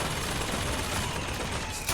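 Dense, continuous gunfire from a firefight against soldiers in Bioshock Infinite, a loud, unbroken wall of shots and impacts filling the whole moment.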